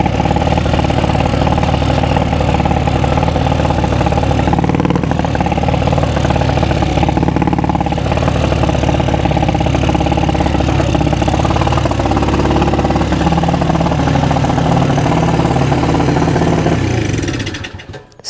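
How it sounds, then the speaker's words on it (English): A 1969 Honda CD90Z desert sled restomod motorcycle engine runs continuously at close range, a steady buzzing drone with slight variations in revs before cutting off at the end. "We have ridden our desert sled CD90Z for the first time."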